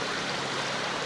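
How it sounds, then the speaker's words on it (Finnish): Rapids of a river flowing over a Class I stretch in Hossa National Park, Finland: a steady, dense rush of water, close and continuous, with no voices. "Siinä on tuolta lihapyörteitä laskeva joki"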